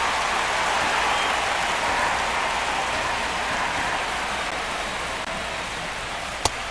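Steady rain pours down on a baseball field in MLB The Show, a continuous even hiss with one brief sharp tick near the end and no talk.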